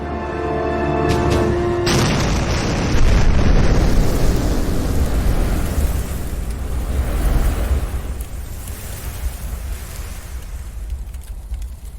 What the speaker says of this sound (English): The explosion's roar was deafening, and Jenny covered her ears in a desperate a